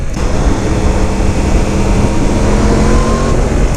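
A 2017 Yamaha FZ-10 motorcycle pulls hard in third gear in B mode, its engine a loud, steady, rising roar close to the rider, mixed with heavy wind rush and no talking.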